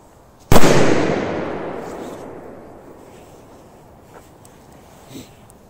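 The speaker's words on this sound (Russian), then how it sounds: "Очень мощная петарда." A powerful K-1000 firecracker goes off in a single sharp, loud blast that rolls away in a long fading rumble over several seconds, with faint pops afterward.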